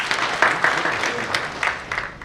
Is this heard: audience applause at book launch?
yes